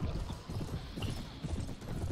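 Horses galloping in Mount & Blade: Warband, a dense, continuous drumming of many hooves close by, loud and rhythmic, with a battle din behind and no talk.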